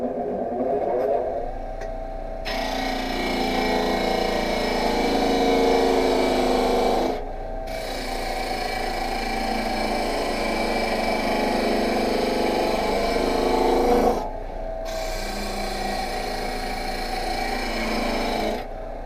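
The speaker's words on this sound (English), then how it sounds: "I use the disc sander with a sled and a push stick that's cut at 30 degrees" A disc sander grinding wooden ring segments held on a sled with a push stick, a loud steady rasping drone broken by two brief pauses as pieces are lifted, close, with no talking.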